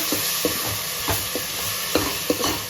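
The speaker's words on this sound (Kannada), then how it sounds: "ರುಬ್ಬಿರುವಂಥ ಶುಂಠಿ ಬೆಳ್ಳುಳ್ಳಿ ಮತ್ತು ಹಸಿಮೆಣಸಿನ್ಕಾಯಿ ಪೇಸ್ಟ್ ಸೇರಿಸ್ಕೊಳ್ತಾ ಇದ್ದೀವಿ ಇದೊಂಚೂರು ಹಸಿ ವಾಸನೆ ಹೋಗೋವರೆಗೂ ಫ್ರೈ ಮಾಡ್ಕೊಳ್ಳೋಣ" Ground ginger, garlic and green chilli paste fries in a pan for a mushroom dish, a steady sizzle broken by regular scraping stirs from a spoon.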